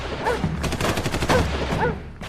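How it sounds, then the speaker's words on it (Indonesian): Rapid bursts of gunfire in a film crackle in quick succession, celebratory shots at a wedding, several clustered together over brief background noise and faint voices. "dari arah pernikahan terdengar suara tembakan"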